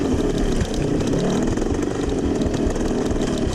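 Vintage dirt bike engine roaring steadily and close during a rocky race, loud and continuous with throttle pulses and no talk over it.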